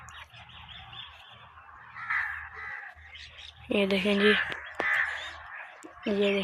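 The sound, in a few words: birds calling in village fields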